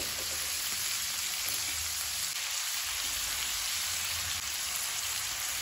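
Onions fry and are stirred until brown for a mushroom and pea dish, making a soft, even, rain-like sizzle that runs steadily throughout with no talking.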